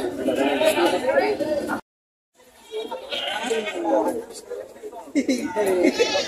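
Goats bleat repeatedly, close by, mixed with people talking throughout, with a short silent gap in the middle, at the Padre Garcia livestock auction market.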